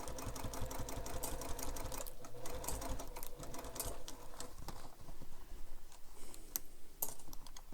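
A sewing machine stitches a fabric bag in a fast, steady mechanical rattle, pausing briefly and then running again up close.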